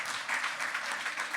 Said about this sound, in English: Let's give him another round of applause as well.